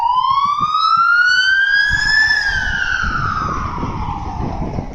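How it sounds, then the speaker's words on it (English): A loud ambulance siren wails, rising and then falling in pitch, close by, over the low rumble of passing traffic. "That's an ambulance"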